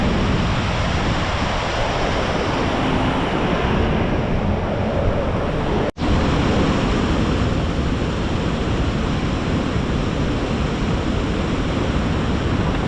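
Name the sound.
rushing water in Kashmir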